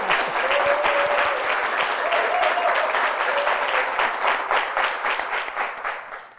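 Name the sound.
audience applause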